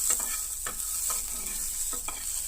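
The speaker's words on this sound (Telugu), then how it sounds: "ఆయిల్ కొంచెం దీన్ని బాగా వేయించుకోవాలి." Peanuts and a piece of ginger fry in oil with a steady, bright sizzle, broken by a few soft scrapes of a spoon stirring in the pan; no one speaks.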